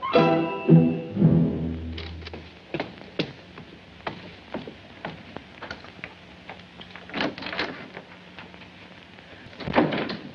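An office door being shut in a 1948 film-noir scene, with a cluster of knocks and latch clicks spread over moderate room noise and faint tonal sounds at the start.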